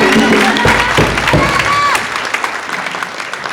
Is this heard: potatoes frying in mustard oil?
no